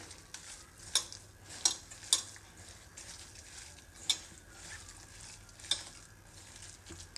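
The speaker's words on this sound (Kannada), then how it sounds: "ಇವಾಗ ಇದಷ್ಟನ್ನು ಚೆನ್ನಾಗಿ ಮಿಕ್ಸ್ ಮಾಡ್ಕೊಳ್ತೀನಿ" A brinjal masala mixture with jaggery and tamarind, for North Karnataka style stuffed eggplant curry, stirred in a pan: soft scraping strokes with sharp ladle clicks at irregular intervals over a faint low sizzle, quiet and close.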